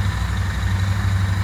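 A Royal Enfield Continental GT 650 engine runs close and loud with a steady, low, throbbing hum; no clear rise or fall in revs is heard in the short stretch.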